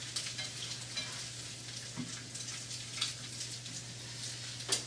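Bacon crackles and sizzles in a frying pan for carbonara, a fairly quiet, even hiss with scattered pops and a low steady hum underneath, no voices.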